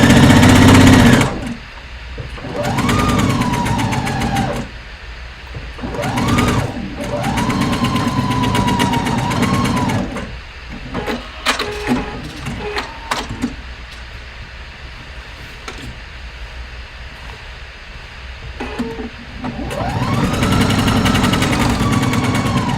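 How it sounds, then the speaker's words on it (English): A sewing machine stitches a shoulder seam on a ruffle-sleeve top with a half-inch seam allowance, running in several loud rapid bursts that speed up and slow down, separated by short pauses. "I'm just doing a 1/2 inch seam allowance, which means I'm just lining up the presser foot with the edge of the fabric."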